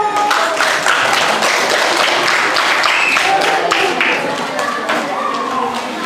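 Sixth-grade pupils in an elementary school classroom clap together in a busy, uneven burst of many hands, with children's voices murmuring through it.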